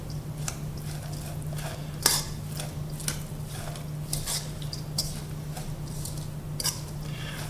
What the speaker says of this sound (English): Mix that well.